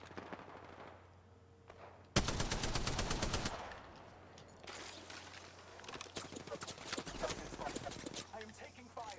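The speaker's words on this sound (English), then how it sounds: "I am taking fire." Gunfire from the Apex Legends video game, including an R99 submachine gun, bursting out loudly in rapid clusters with other shots and effects continuing, under game sound.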